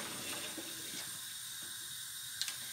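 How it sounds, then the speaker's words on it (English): Noodles and sweet corn being drained in a kitchen sink, with a soft, steady wash of running water throughout and a couple of faint clinks near the end. "I'm just going to drain these noodles"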